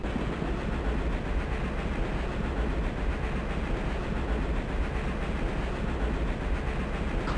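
A train running in the video game GADGET -Past as Future-, a dense, constant rumbling roar from inside the carriage that holds steady with no distinct clacks and no speech.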